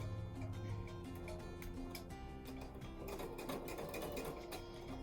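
A sewing machine stitches a quarter-inch seam along quilt binding, running as a steady, fast mechanical whir with a rapid needle chatter that carries on for several seconds at low, even volume.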